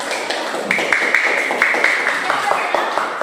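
A classroom of students in a Christian religious education lesson claps hands together, a fairly close, steady patter of claps with some sharper accents, mixed with voices talking over it.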